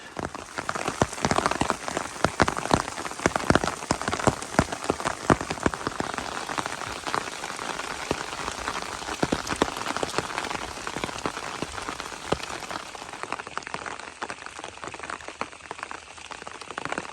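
Steady rain pours onto a forest hiking trail on the Appalachian Trail near Iron Mountain Shelter, a dense continuous patter of close drops with sharper individual splats, easing slightly toward the end.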